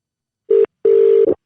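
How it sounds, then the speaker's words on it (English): Two steady electronic tones in quick succession, one short and one longer, loud and clear with nothing else around them. "So I'm going to punch the number in."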